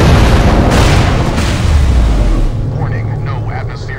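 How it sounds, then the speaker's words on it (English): Detonated charges explode in the video game Borderlands: The Pre-Sequel, a loud, dense, rumbling blast that sustains for a couple of seconds and then fades, with voices heard over the tail of the explosion. "Detonate the charges now!"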